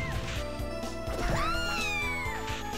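A cat meows in the Castlevania game Order of Ecclesia. The cries rise and fall twice, and repeated chiptune-style notes and a crash sound along with them.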